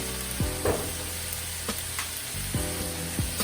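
Meat frying in a pan with soy sauce for fried rice, a steady close sizzle with a few sharp clinks and scrapes of stirring.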